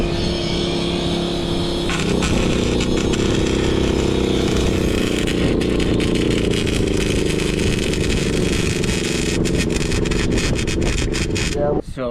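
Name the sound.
bigger generator running to power a welder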